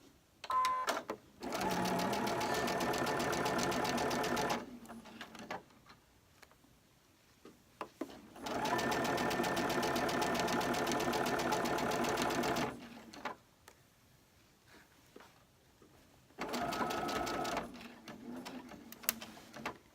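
A sewing machine stitches felt for a handmade pincushion, running in steady bursts of rapid, even needle chatter with short pauses between seams, close and clear with no talking.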